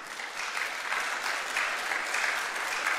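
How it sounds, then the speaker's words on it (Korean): Steady applause from a church congregation, a dense continuous patter of many hands clapping for about three seconds without a break. "여러분 크게 한번 박수해 주시기 바랍니다."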